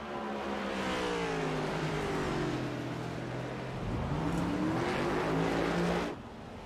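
Race cars lapping Watkins Glen in the iRacing sim racing game, a loud sustained engine drone with gear-change pitch sweeps as a car passes close by, then fading briefly at the end.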